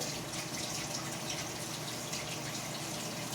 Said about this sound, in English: Sure to wash the potato.